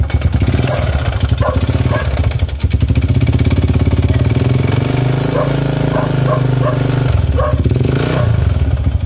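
Honda TMX125 Alpha motorcycle with a badly worn, knocking engine, running loud and close in a steady low drone that holds for the whole stretch. Faint clattering sits on top and there is no talking.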